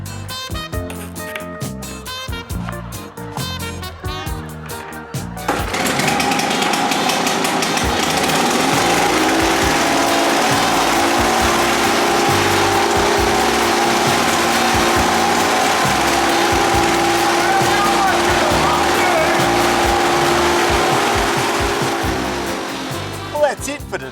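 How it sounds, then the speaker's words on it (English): A Victor lawn mower with a floor mop fitted to its blades polishes a floor, starting up after a few seconds of other sound and then holding a loud, steady engine drone that tapers slightly near the end. "So what I've done is taken my trusty Victor mower and I fitted this floor mop to the mower blades."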